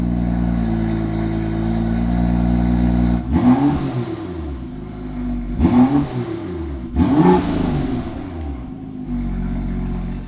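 A tuned BMW F87 M2 with a Stage 2 flash idles loud and steady, then three sharp throttle blips rise and fall in quick succession before it settles back to idle, close to the car.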